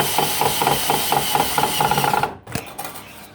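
A power tool drives screws while a cleat is set up in a hidden backyard bunker, a close rapid rattling hammer-like pulse for about two seconds that then stops, followed by a couple of softer knocks.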